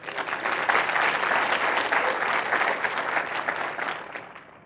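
A conference audience applauds in a hall, a dense, steady wash of many hands clapping that holds strong for several seconds and then begins to fade.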